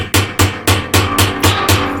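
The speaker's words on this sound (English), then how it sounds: "I'm going to tap down on that hammer with a hammer." Seven sharp metallic taps from a hammer striking pliers, evenly spaced and ringing briefly, close up with no talking, while driving the spline of a Maytag washer basket drive hub.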